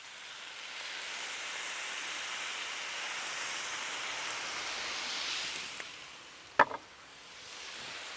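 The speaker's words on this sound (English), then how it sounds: "I'm going to add some balsamic vinegar." Balsamic vinegar sizzling on a hot Blackstone griddle with Brussels sprouts: a steady hiss that fades toward the end, then a single sharp knock from a utensil.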